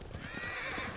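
Horses whinnying and hooves clip-clopping in the samurai game Ghost of Tsushima, a close, steady stream of neighs layered over dense hoofbeats for about a second.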